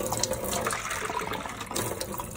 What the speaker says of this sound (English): And now we're gonna put some water in here. So I'm putting a little bit of water in there.